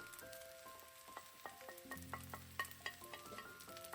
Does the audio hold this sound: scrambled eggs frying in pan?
yes